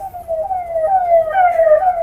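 An ambulance siren wails on a highway among heavy trucks, a steady, slowly sweeping tone sounding loud and close for about two seconds with no talk.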